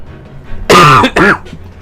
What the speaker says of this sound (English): I do apologize for all the coughing I'm gonna be doing.